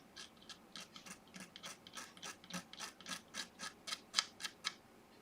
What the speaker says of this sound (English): What I like to do is scrape off from the back.